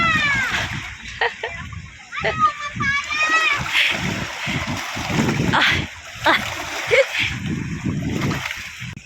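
Children splash in cold sea water on a Turkish beach in chilly weather. Splashing and watery sloshing run through the clip under frequent talk and excited children's voices, with a few sharp squeals near the start.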